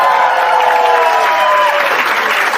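A comedy club audience at a stand-up show breaks into loud, dense applause, close and full, holding steady for a couple of seconds before starting to taper, with a few voices mixed in.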